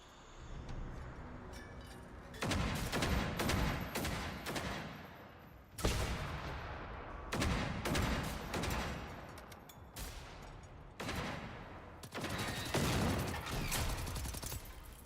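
Bursts of rapid gunfire from a shooting video game, several loud volleys of fusillade-like shots separated by brief pauses, with no talk over them.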